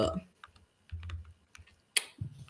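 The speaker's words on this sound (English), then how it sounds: "Stop typing, Adi." Someone types on a computer keyboard in short bursts of sharp clicks with quiet gaps, and brief low voices come in between the keystrokes.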